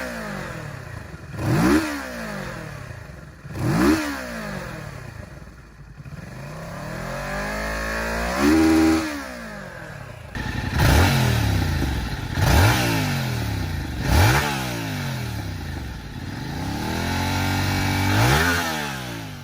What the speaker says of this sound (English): let's have a quick listen to the stock exhausts of both